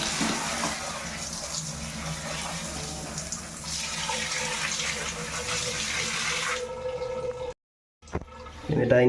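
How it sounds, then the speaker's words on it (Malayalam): Water is sprayed hard onto the back of an air conditioner filter to clean off dirt, a steady close hiss and splatter for several seconds before it abruptly stops, then briefly resumes. "വെള്ളം ആദ്യം ഇതിൻ്റെ ബാക്ക് സൈഡിലേക്ക് അടിച്ചു കൊടുക്കുക"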